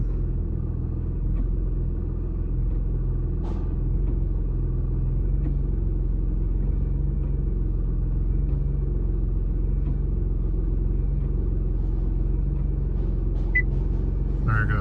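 A Nissan GT-R R35 with a faulty transmission valve body keeps trying and failing to engage gear, heard as a continuous low rumble with faint intermittent clicks and knocks over about fifteen seconds, with no talking.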